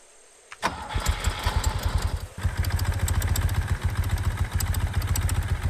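A motorcycle in the farming game Farmers Life cranks with a sharp clatter, then settles into a loud, close, chugging idle with a steady rhythmic pulse.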